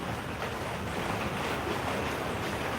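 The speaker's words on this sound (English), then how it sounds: "I don't know if you guys can hear the rain in the background" Heavy rain pours outdoors as a loud, dense, continuous wash of noise with no voices.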